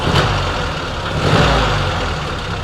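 A Jeep M38A1 engine idles steadily and loudly at close range, with a low, even rumble and no voices.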